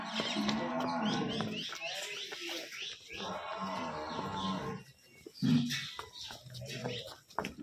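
A buffalo at a farm moos loudly and close by in a run of deep, drawn-out calls, with short pauses between them.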